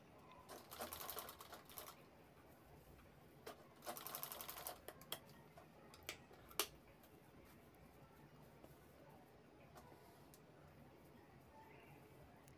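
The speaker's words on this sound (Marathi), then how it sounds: "इथे राऊंडमध्ये हळूहळू शिवून घ्यायचं आहे." Domestic sewing machine stitching slowly around the rim of a baby girl's round cap, heard as short separated bursts of whirring with pauses between, fairly quiet and close, no talking.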